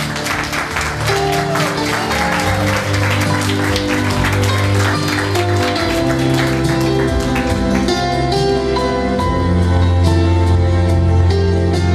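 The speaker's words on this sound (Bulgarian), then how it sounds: "Дами и господа, аплодисменти за свекървата!" Wedding guests clap for the mother-in-law, a continuous busy applause sitting under loud sustained music with a strong bass line throughout.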